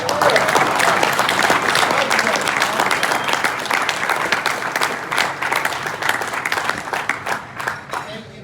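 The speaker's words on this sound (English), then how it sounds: "let's give one more round of applause" Audience round of applause at a club meeting, a full, steady burst of many hands clapping that gradually thins into individual claps toward the end.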